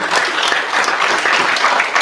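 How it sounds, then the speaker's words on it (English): An indoor audience at a live political event in Brixton gives a round of applause, dense steady clapping filling the room for a couple of seconds. "Can we give them a round of applause?"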